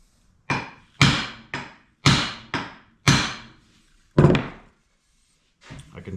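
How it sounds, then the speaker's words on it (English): A sledgehammer strikes the head of a Kelly Tasmanian splitting axe to seat it on the handle, about seven sharp metallic blows at an uneven pace, close and loud, the last ones softer. "if I hit this with the sledge again"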